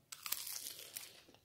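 Crispy egg-free battered cauliflower is bitten and chewed close up, a few sharp crunches followed by softer crackling bites, fairly quiet overall.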